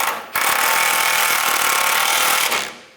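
A power tool drives the lower bumper bolts on a 1996-2002 Toyota 4Runner during an air deflector replacement: one loud, close, continuous whirring burst lasting about two seconds, then cutting off.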